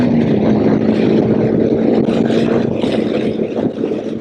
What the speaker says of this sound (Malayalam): Throttle full open.